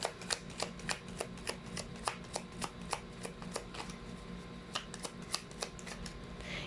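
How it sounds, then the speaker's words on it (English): Cards shuffled in rapid riffles, a steady run of crisp flicking snaps, close and clear, with no talking. "You saw me shuffle as always"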